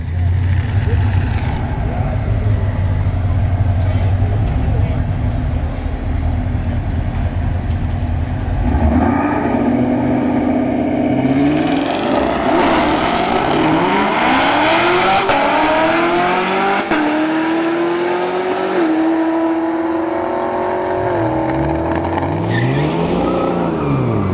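A nitrous-fed Honda Civic and a ZL1 Camaro launch side by side down a drag strip, engines rising loud through the gears with rapid upshifts and tire chirps, a continuous roaring run with commentary voices underneath.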